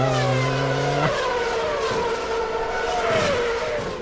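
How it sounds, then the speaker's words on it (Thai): A Lamborghini engine and exhaust in a shooter video game revs loudly and steadily, pitch sliding down and climbing back as the car drives, heard up close with no talk. "ดังแต่ท่อรอไม่ไปจริงๆลัมโบคันนี้"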